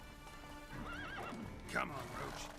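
Roach, the horse in The Witcher 3: Wild Hunt, gallops and lets out a wavering neigh. Hoofbeats thud underneath with a sharp strike midway, and a voice is heard over the fairly quiet game sound.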